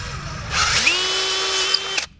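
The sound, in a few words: power drill drilling wood with 1/4-inch bit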